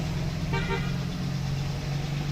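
Car horns on Loakan Road, a busy road, give a couple of short honks near the start over a steady low hum of passing vehicle engines, with no talk.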